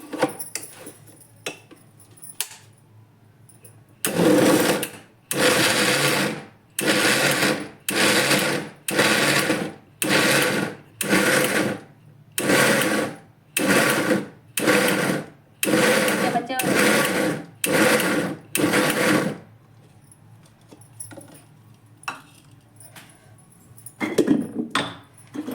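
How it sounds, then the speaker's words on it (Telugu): A mixer grinder blitzing onion for Andhra-style ulligada karam runs in about a dozen short loud pulses with brief pauses between them, and quieter rattling and clatter come before and after. "ఇప్పుడు మిక్సీ పట్టేసుకుందాం."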